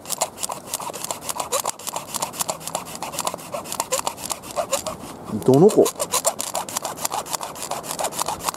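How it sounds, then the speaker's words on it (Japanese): A small hand saw cuts wood by a seaside campfire with steady, rhythmic back-and-forth rasping strokes throughout, while people briefly talk nearby. "あ、こんなのこぎりがあるね。"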